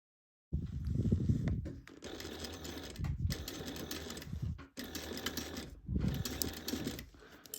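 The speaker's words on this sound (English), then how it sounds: "So currently sewing over that, what is that? The D-ring connection piece." Sewing machine stitching over a D-ring connection piece on a bag, running in several bursts of rapid mechanical whirring and needle clatter separated by brief stops, close and clear.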